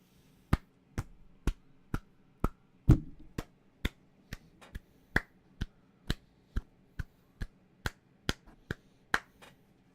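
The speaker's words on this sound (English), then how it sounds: "What's with the slow clapping?" Slow, sarcastic clapping: about twenty sharp, evenly spaced claps at a deliberate pace, close and crisp against a quiet background with a faint hum.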